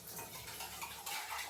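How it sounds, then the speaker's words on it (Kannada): Pots and dishes are washed by hand, giving a brief burst of clattering metal and scraping, close and fairly quiet, with no talking. "ಇವಾಗ ನಾವು ಪಾತ್ರೆ ಬೆಳಗೋಣ"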